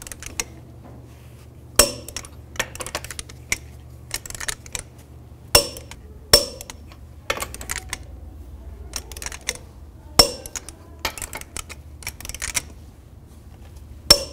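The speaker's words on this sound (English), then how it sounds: "Now I'm going to torque the lug nuts to 140 foot-pounds in a cross pattern to tighten the wheel down evenly." A torque wrench tightens the lug nuts to 140 foot-pounds in a cross pattern on the rear wheel of a 2010–2017 Chevrolet Equinox. Sharp metallic clicks and clinks come one at a time at irregular intervals, close and distinct over a quiet background.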